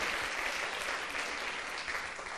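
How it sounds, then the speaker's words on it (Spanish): Congregation at a Catholic service clapping for Jesus Christ, a continuous, even roar of many hands applauding together, somewhat distant and moderate in level, with no voices on top. "Fuerte el aplauso a nuestro Señor y Salvador Jesucristo"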